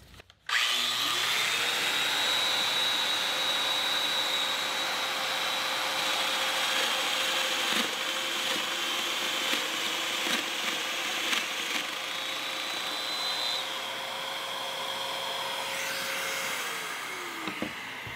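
A Festool Domino DF 500 joiner cuts wood with a close, steady motor whine that rises and falls at each end. It runs continuously for most of the span with faint scraping from the cutter.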